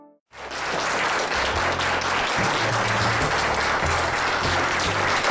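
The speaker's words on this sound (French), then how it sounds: "On applaudit en quelque sorte" A large audience bursts into loud, thick applause after a brief silent moment, a continuous roar of clapping that stays full and even throughout, with a faint low hum beneath it.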